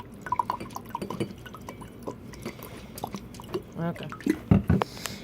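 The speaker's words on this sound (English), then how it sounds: "And then we're going to put some vinegar halfway." Vinegar poured into a clean cup, heard as soft dripping and splashing liquid sounds with a rising fill tone near the end, with faint voice and clinks in the background.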